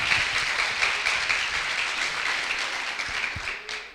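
An audience at a live talk event applauds, with dense, sustained clapping from a crowd that holds steady and then tapers off toward the end.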